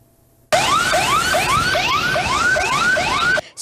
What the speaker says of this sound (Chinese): 消防车不断鸣笛，还按喇叭